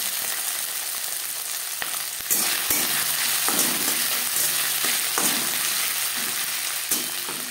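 Green peas fry with ginger paste in a pan for a vegetarian chickpea dal, giving a loud, continuous sizzle with repeated scraping stirs of a spoon across the pan.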